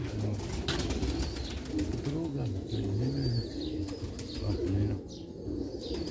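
Pigeons coo repeatedly in a loft kept alongside quail, the rolling calls sounding close and steady while someone talks over them and other birds chirp faintly in the background.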